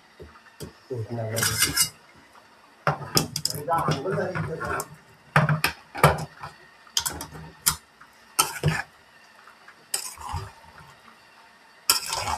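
A large metal pot of veg biryani rice is stirred at a party cook-up, with intermittent scraping and metallic clinks that mostly sit under nearby talk.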